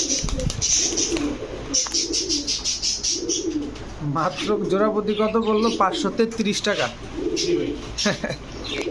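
Pigeons coo repeatedly at a pigeon shop selling Teddy, Pankhi and Saharanpuri breeds, soft rolling calls with chirps close by under continuous talking and a laugh from people in the shop.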